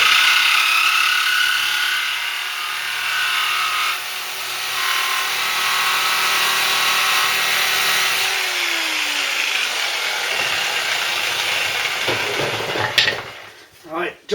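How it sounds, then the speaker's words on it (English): Jigsaw cutting a motorcycle spray guard in a home garage, a loud, steady buzzing saw drone that holds for most of the stretch before slowing and stopping near the end. "Gotta love the jigsaw."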